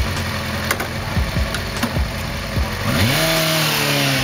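A 1988 Kawasaki ZX4 400cc four-stroke twin-cam motorcycle engine revs up and down in short sweeping bursts, then climbs to a steady higher pitch near the end, loud and close with no talk.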